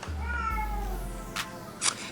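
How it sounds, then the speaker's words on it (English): A cat gives one drawn-out, fairly close meow, followed by a couple of brief soft rustling noises. "That cat."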